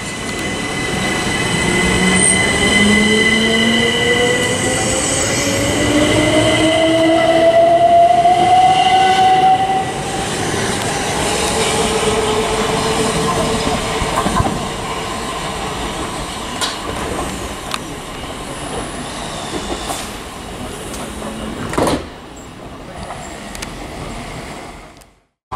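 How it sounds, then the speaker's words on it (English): Southeastern class 375 electric train passing through Sevenoaks station on the Hastings to London Charing Cross service, a loud, near rumble of wheels on rail with squealing and rising whine as it rolls by, then fading away. "375-907 on the 1229. Southeastern service from Hastings to London Charing Cross."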